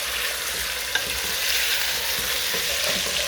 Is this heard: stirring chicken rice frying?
yes